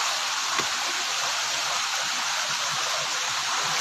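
Steady broadband roar of Kulaklitan Falls, a waterfall in Barangay Panlayahan, Calbayog City, Samar, with constant rushing water filling the scene at close range and no voices.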